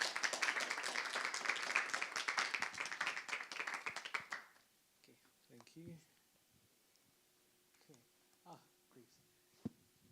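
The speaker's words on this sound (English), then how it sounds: "Dennis, please give him a round of applause." An audience at a startup investor showcase claps for a speaker, with brisk, fairly close applause for about four seconds that then stops, followed by scattered light sounds and brief talk.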